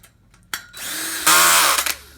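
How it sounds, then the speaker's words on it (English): A power drill drives bolts through Pop-A-Shot arcade basketball game tubes during assembly, with one short whir and then a louder, steady high-pitched burst of about a second that stops abruptly. It sounds close and alone. "we're going to bolt this together now"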